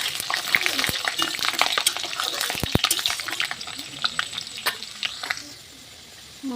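Ginger frying in hot oil in a pan before meat goes in: a dense, crackling sizzle with sharp pops and spatters, close by, easing to a quieter hiss near the end.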